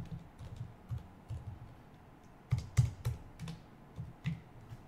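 Computer keyboard typing during a livestream comes as irregular clusters of close, clacking keystrokes with uneven pauses, some presses noticeably louder, over a low room rumble.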